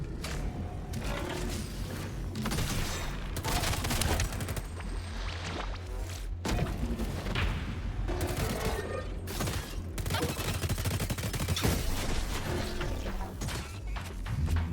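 Rapid bursts of automatic gunfire from a gun in the Metal Eden video game demo, loud and dense, broken by brief pauses between volleys over mechanical clatter.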